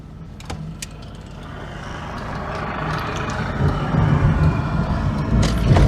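A Vauxhall Astra Mk3 drives along an urban road, steady engine and tyre rumble swelling gradually louder, with faint clicks and traffic noise and no talking.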